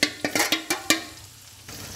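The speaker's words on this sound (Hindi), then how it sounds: "अब हमने इसको पतीली में डाल दिया है। अब ये पकेगा" Marinated chicken dropped and stirred into a cooking pot, giving a quick series of about six clattering scrapes and hits followed by a quieter hiss of sizzling.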